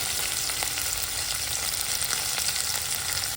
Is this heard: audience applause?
no